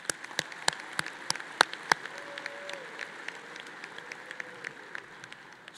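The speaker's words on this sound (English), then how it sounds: "Let's do a round of applause for these individuals." Scattered applause from an audience at a university spring commencement ceremony, sharp individual claps near the start thinning into lighter, sparser clapping in a large reverberant hall, with faint voices underneath.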